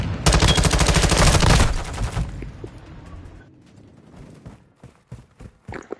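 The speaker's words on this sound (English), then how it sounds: "Ain't no way I just shot at my teammate." A loud burst of automatic video game gunfire rattles in rapid succession, then cuts off. It gives way to quieter scattered clicks, footsteps and a few sharp impacts.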